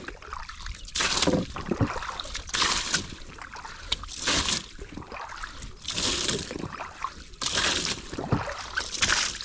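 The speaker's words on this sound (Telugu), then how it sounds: "కొంచెం పడవ కొంచెం వాటర్ కొంచెం క్లీన్ చేసుకున్నా వాటర్ పోసుకొని" Water splashes and pours in repeated bursts over a boat being cleaned, sloshing close by with brief pauses between each pour.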